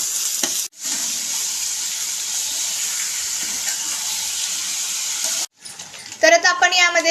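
Chicken frying in a pan with onion and a ginger, garlic and coriander paste, giving a steady close hiss that cuts out briefly twice, with a voice speaking over the sizzle near the end.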